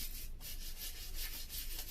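Steady, scratchy scrubbing of a wire brush against rusty bicycle metal, a continuous gritty rasp with slight rhythmic surges, close up and fairly quiet.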